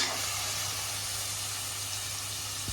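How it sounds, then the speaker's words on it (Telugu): Cinnamon and cloves fry in hot oil for a paya soup, giving a continuous, even sizzling hiss close up with no talking. "ఆయిల్లో ఫ్రై అవుతుంది కదా"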